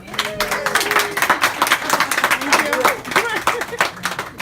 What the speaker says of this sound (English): One more big round of applause for my beautiful wife.